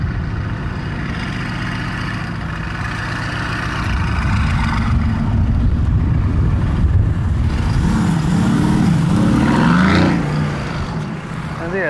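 A passing Mercedes-AMG GTS or GTC sports car rumbles loudly, its engine rising near and then fading out under a steady wash of street traffic.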